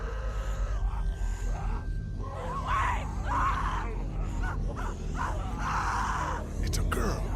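A girl screams in the video game The Walking Dead Season 1, with strained repeated cries over a steady low hum, mixed with other voices.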